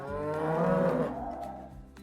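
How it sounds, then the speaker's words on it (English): A black and white cow lets out a single deep, drawn-out moo, loud and close, tapering off over about two seconds with no voices. "It's a cow."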